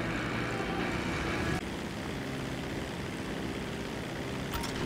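A propeller airplane flies in GTA Online, its engine a steady, dense droning roar that holds constant and close throughout, dipping slightly once, with no voices.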